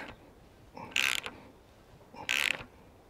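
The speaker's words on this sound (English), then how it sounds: "So we'll start cranking away and see how we go." A vise is cranked tight to press out a suspension bush: two short, sharp ratcheting creaks of metal under tension, about a second apart, close and fairly loud against a quiet background.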